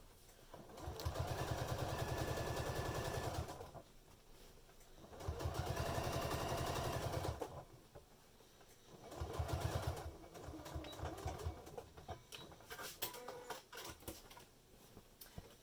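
Sewing machine stitching a row close to the edge of a make-up bag lining, three bursts of fast steady mechanical whirring separated by short pauses, close and clear, then lighter handling noises.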